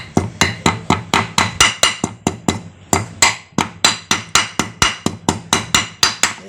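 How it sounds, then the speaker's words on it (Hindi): A hammer repeatedly strikes a wire seal into place on a Hero Duet scooter, producing loud, close, evenly spaced metallic knocks, about three per second with one short pause, and no talking. "हम ये वायर सील को प्रॉपर ठोकेंगे इस तरह से"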